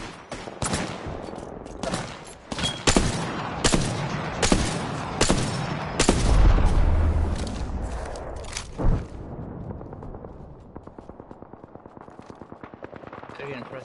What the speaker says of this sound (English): Shoot through the crack of this thing.